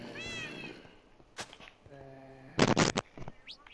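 A cat meows repeatedly in Minecraft on PlayStation 4, a couple of short cries and then a louder burst of several quick meows near the end, fairly close and clear against quiet game ambience.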